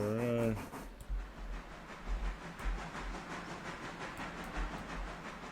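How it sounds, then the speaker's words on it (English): Logging steam locomotive running in the train game Railroader, a steady hissing chuff with periodic low rumbling beats, after a short whistle-like tone at the start, heard at moderate distance with no talking. "This locomotive does actually make for a pretty good switcher"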